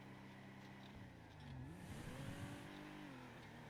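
A car driving in the video game GTA, its engine humming steadily and then revving up with rising pitch in the middle before settling back.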